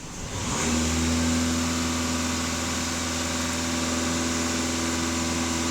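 A VW Passat B8 engine held at about 2500 rpm after starting from idle, a steady loud drone with a strong constant hum that stays even throughout.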